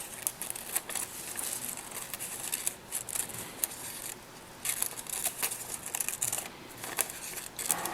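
Scissors cut through layered paper for a handmade wedding dress card, giving repeated close snipping and crisp rustling in uneven bursts, with no talk.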